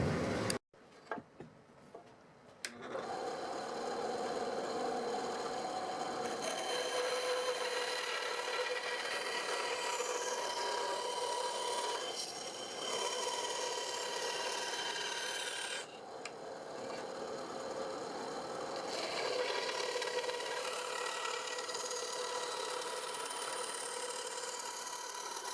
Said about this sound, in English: let's go cut that out on the bandsaw